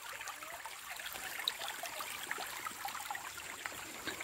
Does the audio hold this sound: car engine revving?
no